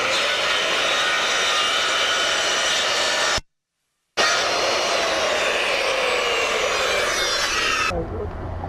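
A handheld power saw cuts through a fascia board on a roof repair, a loud, close, steady whine that drops out briefly, resumes and winds down at the end.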